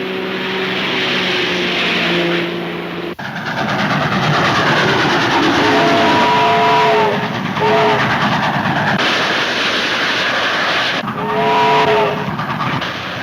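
A moving train with a caboose rumbles loudly and continuously, its wheels clattering steadily on the rails, with whistle-like tones rising and fading over the roar.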